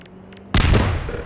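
A Combine soldier's grenade explodes in Half-Life 2, a single sudden loud blast that cuts in after quiet background hum and rumbles away with a rough decaying tail.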